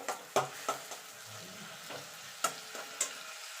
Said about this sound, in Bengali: এটাকে আমি একটু নাড়াচাড়া করে নেবো যতক্ষণ আদা রসুন পেঁয়াজের কাঁচা গন্ধটা না চলে যাওয়া পর্যন্ত।